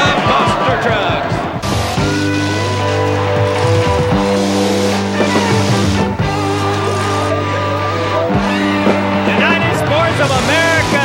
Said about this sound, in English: Cuts him a donut as he rolls around, the king of monster trucks.